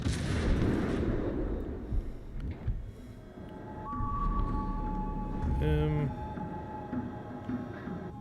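Spaceship weapons in the Starfield video game fire at an enemy battleship, booming and thudding amid layered game effects, with a rising electronic tone near the middle, while someone talks over the action.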